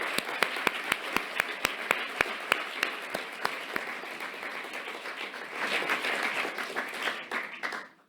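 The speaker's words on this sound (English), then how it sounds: "I think this deserves another applause." An audience at a commencement ceremony claps, sharp rhythmic claps at first that swell into broader applause and cheering before fading out.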